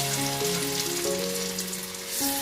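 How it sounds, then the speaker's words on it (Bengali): Small fritters (bora) frying in hot oil in an iron wok, a continuous close hissing sizzle with no talk. "আমি বড়া টড়া কিছু ভাজাভুজি করলে এরকম লোহার কড়াইতেই করি"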